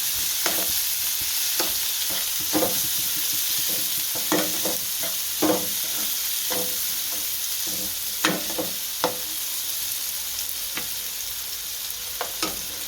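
The white part of spring onions fries in hot oil with a steady, close sizzle for a spring onion and dhokli curry, while a spoon stirs and scrapes the pan in irregular strokes throughout.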